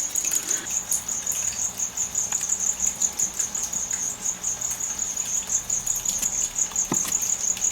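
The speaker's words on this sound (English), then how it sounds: "Just gonna drop a few crickets in this enclosure" Crickets chirp in a steady, high, rapid pulse inside a leaf-tailed gecko enclosure, with faint light rustles and taps under the continuous trilling.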